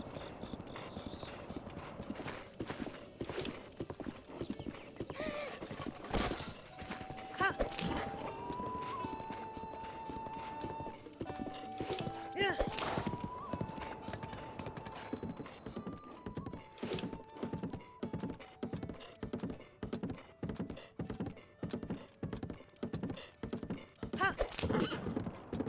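A horse gallops in The Legend of Zelda: Breath of the Wild, giving a long run of rhythmic clip-clop hoofbeats with occasional thunks and a whinny over game music, and the pace shifts as it goes.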